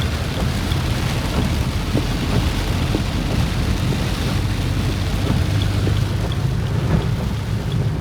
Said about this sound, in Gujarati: જબરજસ્ત વરસાદ પડી રહ્યો છે.